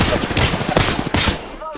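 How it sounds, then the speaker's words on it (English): Rapid gunfire crackles through a video game shootout in a battle royale match, dense bursts of shots close and loud for most of the moment before trailing off. "Taking fire."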